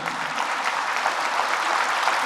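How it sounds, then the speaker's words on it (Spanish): A church congregation at a Mass with Padre Bernardo claps in a dense, steady round of applause that continues throughout, heard alone. "Fuertes aplausos a Jesús."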